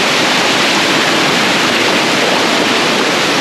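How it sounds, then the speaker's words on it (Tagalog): Engkanto Falls in Libmanan, Camarines Sur, roars with a steady, dense broadband rush of falling water, loud and continuous, with no voices over it. "Ang ganda ng mga falls oh."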